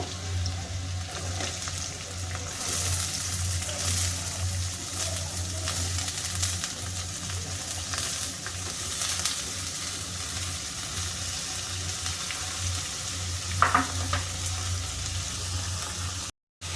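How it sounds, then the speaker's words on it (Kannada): Crushed garlic, cinnamon and cloves fry in a pan for egg bhurji, giving a steady, close sizzle throughout. A brief clink of a utensil comes near the end. "ಈಗ ಜಜ್ಕೊಂಡಿರೋ ಬೆಳ್ಳುಳ್ಳಿ ಚಕ್ಕೆ ಲವಂಗ ಹಾಕ್ತಾ ಇದ್ದೀನಿ ಅದು ಸ್ವಲ್ಪ ಫ್ರೈ ಆದಮೇಲೆ"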